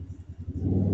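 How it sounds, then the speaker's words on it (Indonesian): A motorcycle engine rumbles nearby, swelling louder toward the end as it passes close. "Sorry ya suara motor."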